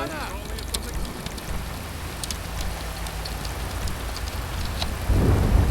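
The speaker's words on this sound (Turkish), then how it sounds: "Abi yağmur yağdı." Rain and thunder in the video game GTA 5 form a steady, fairly loud wash of rainfall, with a deeper rumble of thunder swelling near the end.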